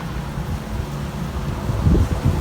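Strong wind before a rainstorm buffets the microphone in a steady low roar that gusts harder near the end.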